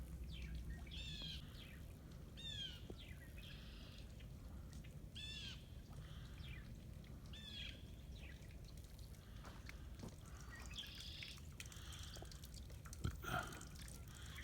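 Small birds chirp and tweet in repeated short bursts around a backyard feeder stocked with yellow corn on a snowy winter day, moderately near over a steady low background rumble, with no voices.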